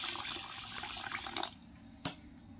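Water poured from a tap over washed multigrain kernels for dosa batter, a close, steady splashing stream that cuts off abruptly partway through, followed by a single brief clink.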